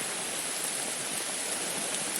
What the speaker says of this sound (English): it's been raining about 10-15 minutes now